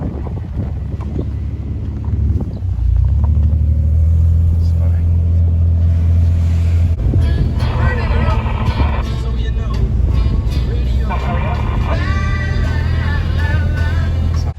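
Car engine revving hard while driving through soft sand on Fraser Island, a loud sustained engine drone with buffeting wind and rattling throughout, rising in intensity partway through.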